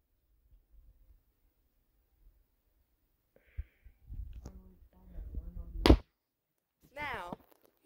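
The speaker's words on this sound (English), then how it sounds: "Now, you heard a smack" A sharp smack cracks out amid quiet breathing and shuffling noises, followed by a short squeaky vocal sound.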